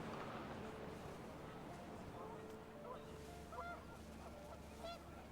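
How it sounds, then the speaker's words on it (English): Panicked geese honk in What Remains of Edith Finch, faint and distant cries near the end, scattered over a dense rushing wind. "The wind picked up and panicked geese appeared and quickly went."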